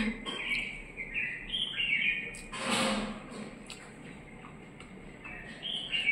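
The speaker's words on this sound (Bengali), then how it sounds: "ওইদিকে পাখিগুলো ডাকছে বাইরে।" Birds call outdoors during a Sunday lunch at home, several high chirps and tweets repeating at moderate distance over quiet room tone, with a brief louder rustle in the middle.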